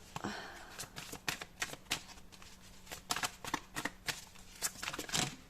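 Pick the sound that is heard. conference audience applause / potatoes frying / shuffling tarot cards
shuffling tarot cards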